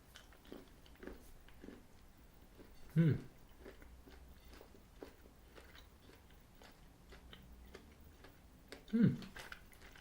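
Soft chewing of a Ghirardelli milk chocolate peppermint brownie with a couple of louder crunchy bites on mint pieces, close to the mouth, against quiet background sounds.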